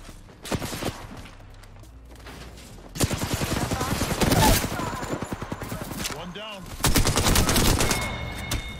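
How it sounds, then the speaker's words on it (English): Rapid automatic gunfire from a full magazine sprayed in the Apex Legends battle royale game, with loud bursts of rattling shots clustered into several volleys, mixed with game sound effects and speech from players. "I just sprayed a whole mag into him and did zero damage"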